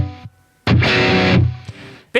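Electric guitar played through an overdrive pedal with the gain turned down, a short picked note followed by a bright, gritty sustained chord that rings about a second and cuts off.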